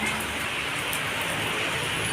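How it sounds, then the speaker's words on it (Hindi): Heavy rain pours steadily outside a flooded home, a dense, continuous hiss of drops drumming on surfaces, loud and unbroken with no voices. "तो देखो बारिश आ रहा है बाहर"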